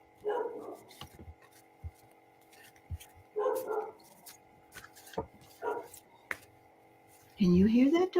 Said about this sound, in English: Can you hear that, doggy?